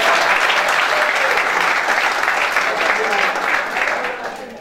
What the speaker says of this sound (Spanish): Aquí un aplauso rápido